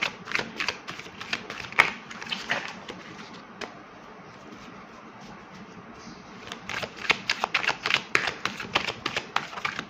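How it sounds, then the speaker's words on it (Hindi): Tarot cards are gathered and slotted back into a deck, crisp close clicks and flicks in irregular bursts, busy at first, pausing to a quiet stretch in the middle, then resuming. "कुछ कार्ड्स नीचे गिर गए थे, जो कि मैं अगेन इस डेक में लगा रही हूँ।"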